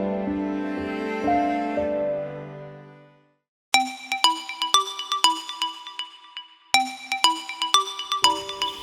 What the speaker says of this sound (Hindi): अरे माँ का फोन